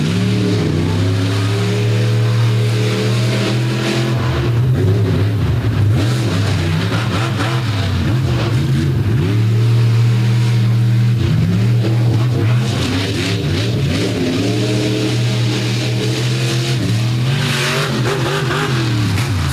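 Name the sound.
monster truck engine revving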